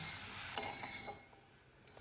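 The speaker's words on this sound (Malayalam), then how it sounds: "ഇനി അതിലേക്ക് ചീര ചേർത്ത് കൊടുക്കാം ഇനി ഒരു മൂന്ന് നാല് മിനിറ്റ് ഒന്ന് ഇളക്കി കൊടുക്കണം" Ponnanganni greens stirred in a pan give a soft sizzle with a few faint scraping strokes of a spoon, quiet and brief.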